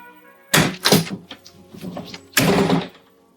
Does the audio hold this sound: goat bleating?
no